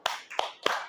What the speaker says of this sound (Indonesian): Kita kasih tepuk salut ya buat Arka.